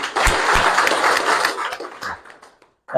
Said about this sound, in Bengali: ভাইয়ের জন্য একটা হাততালি দেন সবাই।